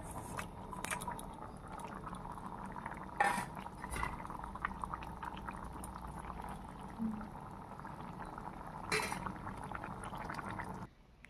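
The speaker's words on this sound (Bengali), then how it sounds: "এখন মাছগুলি দিয়ে দেবো।" Small fish going into simmering curry gravy in a pan: soft, steady bubbling and wet squelches with a few splashy thuds, closing in a quieter final moment.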